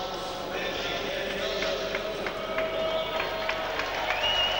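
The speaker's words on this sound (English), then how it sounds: "round of applause here because the local rider has come on representing Belgium" A cycling crowd at the 2001 World 500m time trial championships applauds a local Belgian rider: scattered, crisp claps and crowd murmur sit under a commentator talking steadily throughout.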